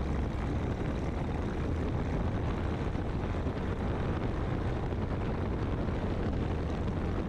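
Propeller aircraft engine holding a steady, broadband drone throughout a run-up governor check, loud and constant with no change in pitch and no voices.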